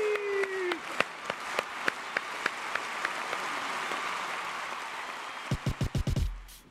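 A studio audience on a music show claps and cheers as a hip-hop performer is introduced, with a brief high whistle at the start and scattered sharp claps over a steady crowd wash, before heavy rhythmic beats cut in at the end.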